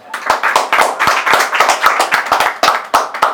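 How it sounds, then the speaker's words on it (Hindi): Rhythmic hand claps, a quick series of sharp, close slaps in a steady beat rather than one single clap, with no voices. "रिटेक धुन के लिए एक बार ताली बजा दो।"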